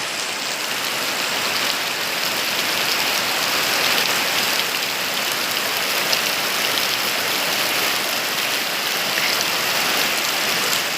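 Heavy rain pours down outdoors in a dense, constant hiss of drops hitting surfaces, loud and unbroken throughout with no talking.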